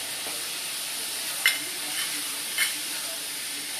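Tomato with chili powder and sambar powder sautés in a pan for hotel-style sambar, making a steady, bright frying hiss. Two brief spoon clinks stand out against it, close by and with no talk.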